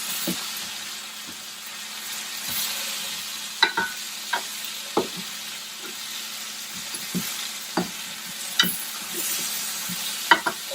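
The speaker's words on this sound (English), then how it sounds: "Now I'm going to turn my potatoes over." German fried potatoes with onions sizzling steadily in a pan as they are turned over, with a constant frying hiss broken by scattered scraping clicks and taps of the spatula, close and without speech.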